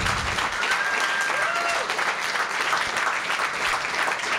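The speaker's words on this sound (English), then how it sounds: "I want to give a big round of applause for our guests tonight, Todd, Pete, and Chip." Audience applause for guests at a craft beer and homebrew panel, a steady dense wash of clapping throughout, fairly loud and sustained with no voices over it.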